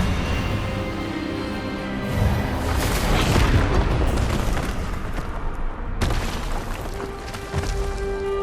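Expelliarmus spell cast in the video game Hogwarts Legacy, a loud, sustained booming magical blast with a dense rumbling wash that swells, cuts off abruptly, then resumes at full strength.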